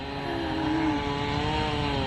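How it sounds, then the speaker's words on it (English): A chainsaw runs steadily nearby in a vegetable garden, its engine droning at a constant pitch with a brief rise, alone for about two seconds. "Oh my God, I'm gonna hate that chainsaw."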